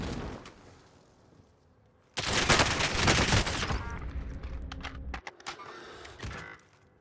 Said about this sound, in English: So right there, I can do like a 3-4 round burst and be able to hit a headshot, no problem.